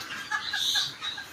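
Broiler chickens in a poultry shed struggling in the heat during a power cut, giving faint, short clucks and cheeps in a brief burst, slightly distant.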